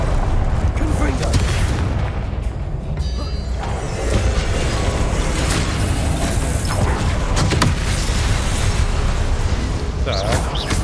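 A loud magical blast from the Confringo fire spell in Hogwarts Legacy booms amid constant battle noise and music, with a voice speaking over the din.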